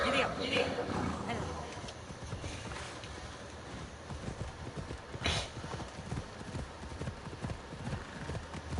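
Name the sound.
horse hooves clip-clopping in video game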